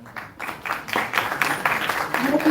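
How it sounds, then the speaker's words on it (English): Applause for a tech team at a university orientation event, building from scattered claps into a fuller, moderately loud patter of hands with faint voices beneath. "So a huge round of applause for Raksha."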